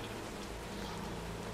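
Steady Minecraft rain gives off a soft, even hiss of falling drops, faint and unbroken across a brief stretch.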